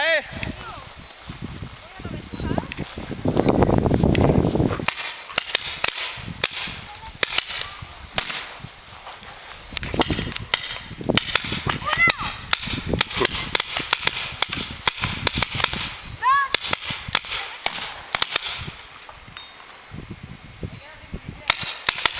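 Paintball markers firing during an outdoor paintball game, rapid sharp pops and cracking shots scattered throughout, with voices calling out across the field.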